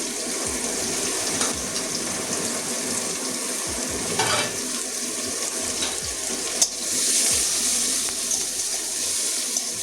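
Chopped medium-sized onion frying in a hot pan: a steady, close crackling sizzle with a few sharp spatters and a brief scrape of stirring, with no voices.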